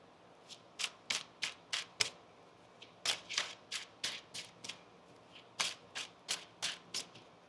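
Tarot cards are shuffled in quiet, rhythmic bursts of crisp riffling and flicking, about twenty short snaps in loose clusters, close and fairly soft with no talk.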